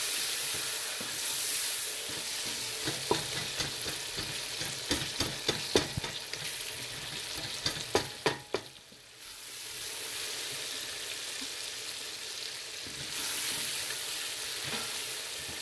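Tomato and chili fry in oil for red lentil dal under a steady close sizzle, broken by a run of sharp scraping stirs before the hiss settles again, with no speech.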